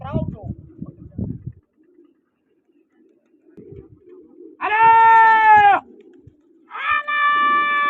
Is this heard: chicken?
no